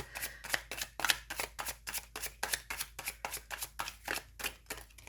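Tarot cards are shuffled by hand in quick, crisp riffling bursts, about a dozen evenly spaced flutters heard close and alone against a quiet room.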